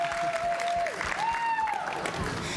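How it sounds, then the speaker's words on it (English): Audience applause for a director, an actress and a set designer at a live teen talk show, a steady wash of clapping throughout with a tonal whistle or feedback line drifting above it. "Let's give them a round of applause."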